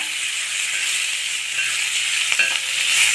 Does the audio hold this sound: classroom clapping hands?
no